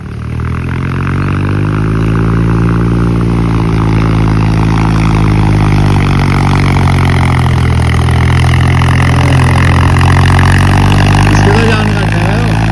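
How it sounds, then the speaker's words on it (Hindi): Small Mahindra tractor engine running steadily and loudly, a continuous close diesel drone with slight rises in pitch as it works on a farm. "छोटा है ट्रैक्टर, छोटा है ड्राइवर।"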